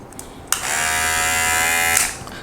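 A click, then a Kemei KM-1992 cordless hair clipper buzzes steadily up close for about a second and a half before switching off.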